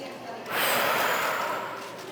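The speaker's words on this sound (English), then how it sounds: "Take another breath." A deep group breath, a slow broadband inhale-exhale that swells after half a second and fades gradually, taken during a guided breathing exercise at a wellness expo talk.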